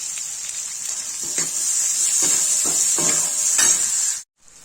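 Tinda (round gourd) and coconut fry in a kadhai with a bright, hissing sizzle and light stirring scrapes, steady and close for about four seconds before cutting off abruptly.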